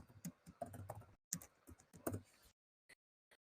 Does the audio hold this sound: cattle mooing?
no